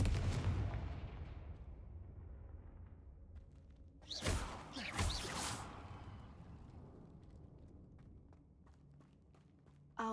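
The Confringo fire spell blasting in the video game Hogwarts Legacy, a loud fiery whooshing burst about four seconds in that roars for roughly two seconds over a low rumbling backdrop, then fades.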